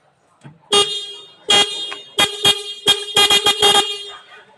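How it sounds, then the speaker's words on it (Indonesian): A car horn is tested during a horn system inspection, sounding a series of loud, close honks: a few separate blasts, then a quick cluster of short toots. "di sini horn berbunyi menandakan dalam kondisi yang bagus"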